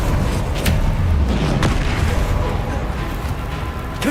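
An Expelliarmus spell cast in Hogwarts Legacy lands as a few heavy, booming bursts. A dense, continuous rumble of combat noise fills the gaps between the loud thumps.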